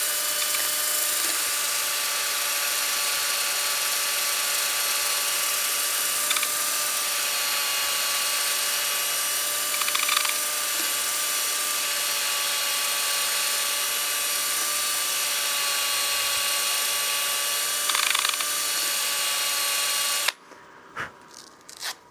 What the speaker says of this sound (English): let's go ahead and sand this now with our 220